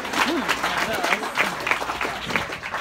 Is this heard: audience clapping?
yes